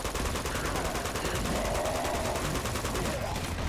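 Rapid bursts of automatic gunfire crackle continuously in a firefight in the action video game Uncharted 2, dense and loud throughout.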